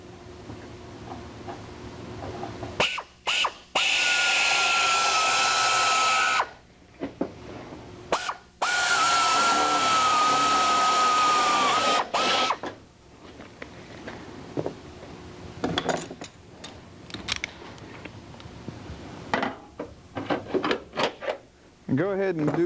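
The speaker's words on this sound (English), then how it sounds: "Using our long 12-inch drill bit," A drill with a long 12-inch bit bores holes through aircraft spar and rib parts, two sustained high whining bursts of several seconds each, surrounded by clicks, clatter and handling noises, with a voice talking between them.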